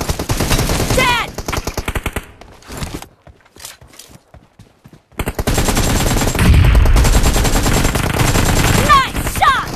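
Rapid automatic gunfire rattles in loud bursts in a video game match, broken by a near-silent stretch before a second dense barrage resumes, with brief voice callouts mixed in.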